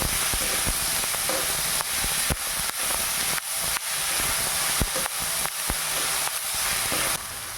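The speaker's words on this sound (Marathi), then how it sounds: "आता मी टाकणार आहे बारीक चिरलेले केळफुलं. तर कांद्यात मी भाजून घेणार आहे." Finely chopped banana flower fries with onion in a hot pan, giving a loud, steady sizzle and hiss broken by occasional clicks and stirring knocks; no voices.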